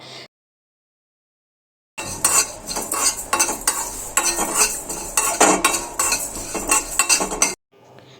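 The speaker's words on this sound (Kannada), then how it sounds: "ಸೊ ಇದಿಷ್ಟು ಇಂಗ್ರೀಡಿಯೆಂಟ್ಸ್ನ ಹಾಕ್ಕೊಂಡು ಲೋ ಫ್ಲೇಮಲ್ಲಿ ಜಸ್ಟ್ ಒಂದು 2 to 3 ಮಿನಿಟ್ಸ್ ಫ್ರೈ ಮಾಡಿಕೊಂಡ್ರೆ ಸಾಕಾಗುತ್ತೆ" Cinnamon, cloves, cardamom and cumin fry on a low flame for chicken pickle while a metal spoon stirs and scrapes the pan with clinks and a soft sizzle. This follows a silent start and stops abruptly near the end.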